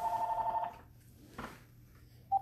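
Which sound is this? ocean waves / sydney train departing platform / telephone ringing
telephone ringing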